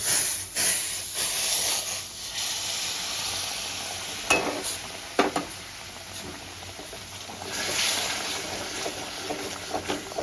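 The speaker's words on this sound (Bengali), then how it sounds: "আমি এখানে নর্মাল জল দেব না, আমি এখানে গরম জলই দেব।" Hot water poured into sizzling masala for a butter paneer masala, giving a steady frying sizzle and hiss with a brief splash and burst of bubbling midway, fairly close and moderately loud, no voices.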